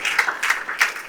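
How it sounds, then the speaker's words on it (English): An audience at a school innovation event claps in honor of the founding fathers and management, a steady, dense crowd applause with rhythmic swells, fairly loud and close with no talk over it. "So, one big round of applause to our fathers and the respected management"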